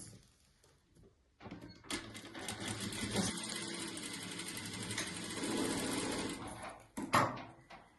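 After a quiet start, a sewing machine stitches 9 cm fabric pieces in a long continuous whir, close and steady, then stops with a couple of clunks.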